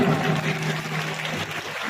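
Loud, dense applause from a school event audience in Dungri, Raniwara, Jalore, Rajasthan, a steady wash of many hands clapping that holds for the whole moment, with a faint low hum beneath.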